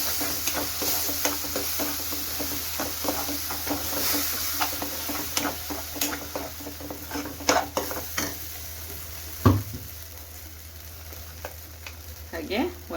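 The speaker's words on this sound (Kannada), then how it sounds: "ಗ್ರೇವಿ ಕುದಿಯೋವರೆಗೂ ಮಿಕ್ಸಿ ಜಾರ್ ತೊಳೆದು ಸ್ವಲ್ಪ ನೀರು ಸೇರಿಸ್ತಾ ಇದ್ದೀನಿ." Paneer butter masala gravy cooking in a pan, with a continuous soft sizzle and bubbling broken by irregular scrapes and clinks of a spoon stirring close by.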